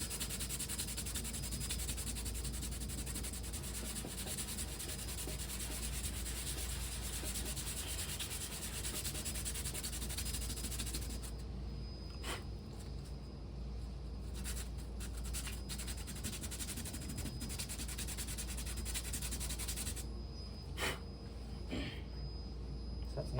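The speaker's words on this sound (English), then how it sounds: "I'm going to sand the back side or flat side of it." Sandpaper rubbing back and forth across the flat back side of a small piece during assembly, a continuous close rasping that keeps going with only a few brief breaks.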